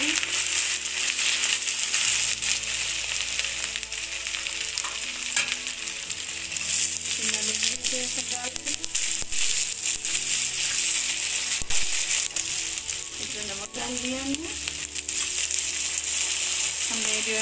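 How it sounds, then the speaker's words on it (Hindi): Eggs frying in a pan for a Chinese egg chilly dish, a dense continuous sizzle and crackle with occasional scraping and clinks of stirring, close and fairly loud with no talk. "अब ऐसे ही सब हमें जो है फ्राई कर लेना है।"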